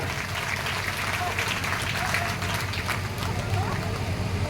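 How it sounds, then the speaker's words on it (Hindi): Loud, dense applause from a crowd at a Hindu devotional gathering for the donors, steady continuous clapping with crowd murmur mixed in. "आइए सभी दानदाताओं के लिए जोरदार तालियां"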